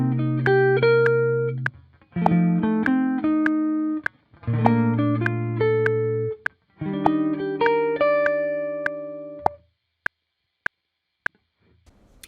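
Arpeggios rise over the chord changes in four separate bursts with short gaps between them, followed by sparse single clicks or taps near the end.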